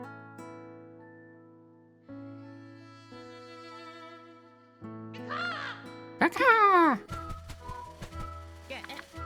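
Video game crow character from Kulebra and the Souls of Limbo gives a loud, sweeping cry over a steady layer of game music and ambient tones, standing out near the end.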